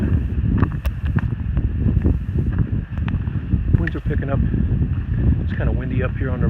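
Gusty wind on a mountain ridge along the Appalachian Trail rumbles and buffets the microphone steadily, loud and close, while people talk over it.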